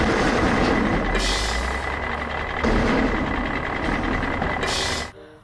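Garbage truck reversing, its engine rumbling steadily underneath while high reversing beeps sound in slow, evenly spaced bursts, close by.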